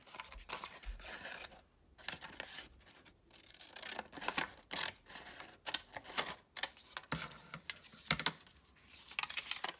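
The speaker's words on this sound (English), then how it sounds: "So I'm going to cut a pretty large triangle" Scissors cut a large triangle out of a sheet of paper, giving dense, irregular snips and crisp paper rustles that run close and steady throughout.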